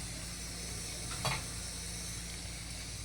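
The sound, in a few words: spice tempering sizzling in oil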